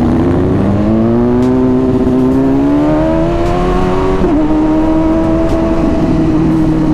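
A BMW S1000RR superbike engine revs steadily near the mic in a mall parking area, its pitch climbing and holding with a loud, continuous drone and no talking.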